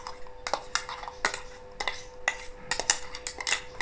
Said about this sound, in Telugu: ఈ పేస్ట్ అంతా కలుపుదాం.